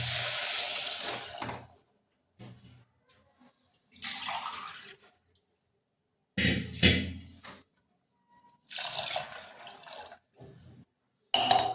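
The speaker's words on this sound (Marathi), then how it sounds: "आता आपण यामध्ये पाणी टाकायचं." Water is poured into a pot of rajma beans cooking on the stove. It comes in several short, splashing bursts with silent gaps between them, each pour close and fairly loud.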